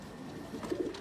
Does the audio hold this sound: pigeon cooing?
yes